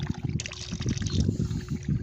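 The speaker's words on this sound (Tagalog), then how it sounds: "Dagdagan natin ng tubig kung ilan po yung kakasya doon sa pancit canton para maluto." Water poured into a hot wok while cooking pancit canton, a steady trickling and splashing pour with bubbling sizzle underneath, close and continuous for about two seconds.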